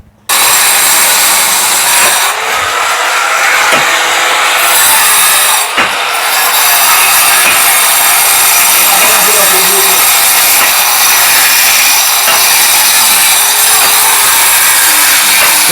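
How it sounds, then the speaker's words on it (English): A power tool cuts into house walls for electrical wiring during a construction job in Jamaica, giving a loud, continuous grinding whine close by that runs almost without a break, with a couple of brief dips and voices faintly underneath. "Work has started as far as the cutting of the walls is concerned."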